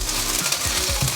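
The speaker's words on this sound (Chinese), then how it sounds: "现在铺平均，给它煎一下" Gluten sausage pieces fry in oil in a pan, a steady close sizzle with soft scraping from a spatula spreading them out, and no voices.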